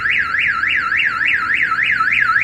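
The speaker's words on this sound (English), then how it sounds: "You can hear that siren." Viper aftermarket alarm siren on a 2000 Toyota 4Runner wailing loud and close, a steady rising-and-falling tone sweeping up and down about four times per second without pause.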